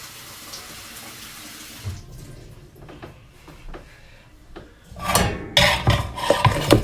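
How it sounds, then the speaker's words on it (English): Water is poured onto freshly transplanted vegetable seedlings, starting as a faint trickle and swelling into a louder splashing pour with a few rubbing and clinking touches near the end. "We're just going to add some water."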